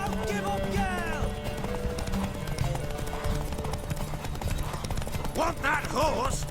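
Hooves clatter in quick galloping clip-clops from a horse racing in The Witcher Wild Hunt, steady and close, with a brief whinny, music underneath, and voices talking over the ride.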